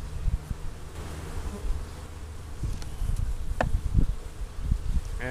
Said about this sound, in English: Oh yeah, quite a few bees under there.